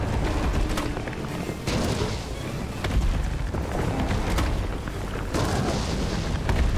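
Mine rounds detonate in Resident Evil 3 Remake, producing a series of heavy, rolling booms and sharp bursts over a constant dense roar, loud and continuous with no clear pauses.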